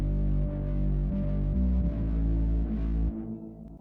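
A dark, unprocessed synth bass lead drones in low, sustained notes that shift pitch in a slow pattern. It is moderately loud and steady, then thins out and fades near the end. No voices.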